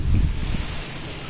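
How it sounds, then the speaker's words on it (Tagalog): Strong typhoon wind without rain buffets and roars in gusts at an upper-floor construction site, a low blustery rush that fades slightly toward the end. "Talagang humahambalos kahit walang ulan mararamdaman mo yung lakas ng hangin."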